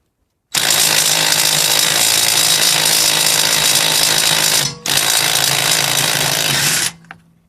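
A DeWalt DCF885 impact driver works a lug nut loose, hammering loud and steady in one long burst, halting for a split second, then hammering again for about two more seconds before spinning down.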